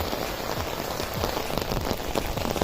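Rain falls steadily in Daegu, South Korea, a close, even patter of drops hitting surfaces with scattered sharper splashes and no talking.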